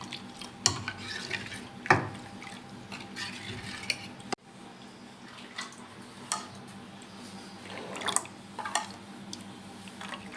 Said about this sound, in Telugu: మంచిగా ఉండలేకుండా కలుపుకోవాలి.